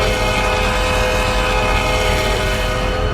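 A Metro train horn in a video game holds one long, sustained chord throughout, loud and unwavering, with nothing else heard.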